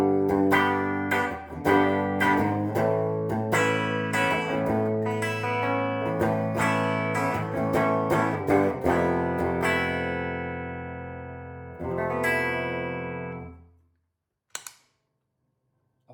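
An electric guitar on its bridge pickup plays through an IBAR JCM800 pedal set clean, with strummed chords and picked notes ringing loud and close, then one last chord sustaining and fading away, followed by a few faint clicks.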